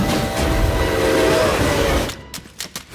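Toy train battle scene from the Ant-Man film, with a loud rumbling rush of train wheels and clatter that cuts off abruptly, followed by a few sharp knocks and impacts.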